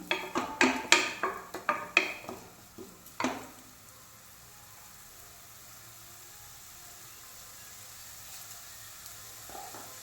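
Grated coconut roasting in ghee in a pan makes sharp scraping and clattering strokes of a utensil against metal in the first few seconds, then a faint, quiet sizzle carries on alone.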